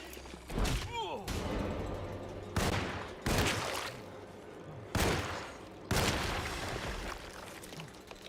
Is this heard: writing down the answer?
no